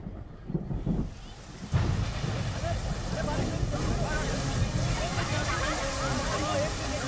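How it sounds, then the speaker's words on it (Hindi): Rain begins pouring in a dramatic film scene, a dense steady hiss of falling water with a low rumble, mixed with a voice and other background sounds. "लो बारिश आ गई"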